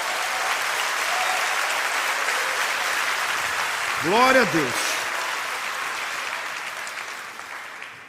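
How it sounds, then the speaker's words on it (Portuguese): A church congregation claps in sustained applause, with a voice speaking over the clapping and a brief sung or shouted phrase partway through. "Pode dar uma salva de palmas ao Senhor."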